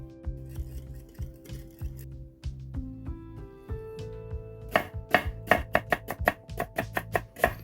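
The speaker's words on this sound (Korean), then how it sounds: "대파 송송 썰어주고" Knife slicing green onion on a cutting board, starting with soft, uneven cuts and then breaking into a quick, crisp run of sharp chops near the end, close and alone with no talking.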